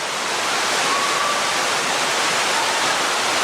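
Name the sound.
waterfall at Watkins Glen State Park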